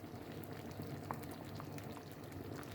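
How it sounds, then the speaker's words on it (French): Plum jam bubbles in a pot, a soft continuous simmer with small popping bursts, fairly quiet and close, with no talking. "Un petit zoom là sur les petits bouillons là."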